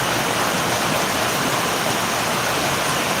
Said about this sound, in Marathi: पाऊस इतका जोरात चालू आहे